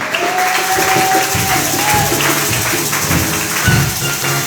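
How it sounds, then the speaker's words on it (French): A church congregation applauding and cheering during a French-language worship service, a dense steady wash of clapping and voices filling the room throughout, with a tone sliding beneath it. "Acclamons très fort le Seigneur."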